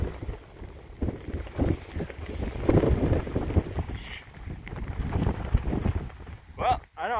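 Strong gusting wind roars across an exposed stretch of the Appalachian Trail in the Grayson Highlands, with hail and frozen rain falling, loud buffeting against the microphone throughout and a brief voice near the end.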